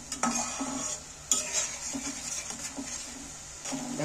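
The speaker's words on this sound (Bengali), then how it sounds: "এইটাকে ভালো করে নেড়ে নেড়ে নাড়াচাড়া করে করে ভালো করে নেড়ে ভাজতে হবে" Tomato, ginger and garlic masala being stirred and fried in a pan, with repeated scraping strokes of a spatula over a light, steady sizzle and occasional clinks against the metal.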